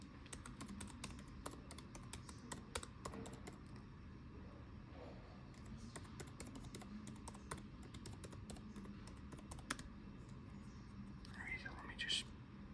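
Typing on a computer keyboard while entering numbers into a program, a steady run of faint, quiet key clicks throughout, with soft low whispering or breath noise underneath.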